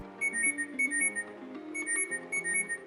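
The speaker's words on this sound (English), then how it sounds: "which plays a loud tone on your phone." A smartband's find-phone feature sets off a loud alert tone on the phone: a bright, repeating electronic melody in two quick bursts, clear and close with no talking.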